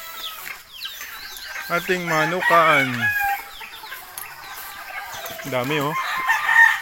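Several roosters, including a Boston breed rooster, crow over a busy background of clucking chickens in a coop, close by, with someone speaking briefly in Tagalog.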